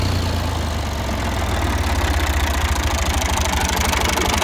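A Massey Ferguson 135 tractor with a Lucas CAV injection pump, set up for pulling a harrow, idles steadily up close, its diesel throb low and even throughout with no voices.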